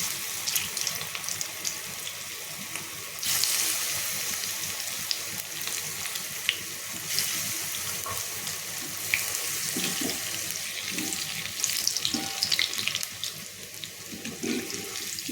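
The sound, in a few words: potato vadi slices deep-frying in hot oil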